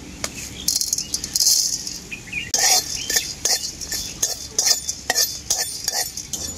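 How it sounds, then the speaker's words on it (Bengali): Whole spices, including bay leaves, cinnamon, cardamom, cloves, mace, nutmeg, coriander seeds and peppercorns, are dry-roasted in an empty wok. A metal spatula stirs and scrapes them in quick, irregular clattering bursts, close and fairly loud. "এখানে আছে তেজপাতা, দারুচিনি, এলাচ, লং, জায়ত্রী, জায়ফল, গোটা ধনে, গোলমরিচ একসাথে শুকনো কড়াই ভেজে নেব।"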